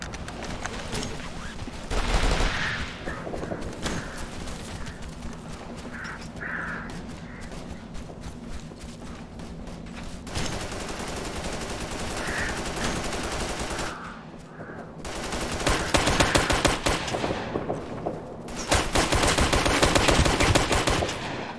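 Video game combat in Operation Flashpoint: Red River: sustained gunfire with rapid machine gun bursts and scattered rifle shots, loud and near, swelling in intensity across the scene.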